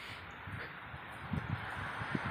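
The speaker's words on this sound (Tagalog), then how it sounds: "Medyo malakas ang hangin ngayon" Strong autumn wind in a park rustles leaves in a steady broadband wash, with low buffeting thumps of wind on the microphone scattered through it.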